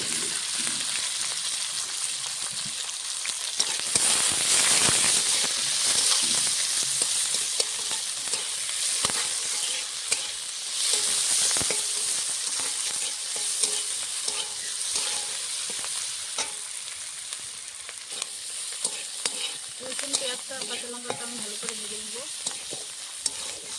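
Onion and garlic sizzle steadily in hot mustard oil with bay leaf and whole cumin tempering, a continuous close frying hiss broken by occasional scrapes and stirring taps of a spatula.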